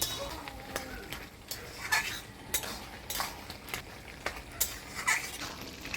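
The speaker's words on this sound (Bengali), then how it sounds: "লাউটা ভালোভাবে নাড়াচাড়া করে নিলাম।" A utensil stirs finely chopped bottle gourd with mustard, green chili and salt in a cooking pan, making repeated sharp scraping clinks and soft rustles at a close, moderate level, with some quiet talk.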